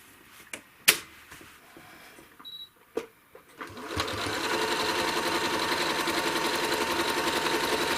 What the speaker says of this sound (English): So I basted across the top of my quilt to get started.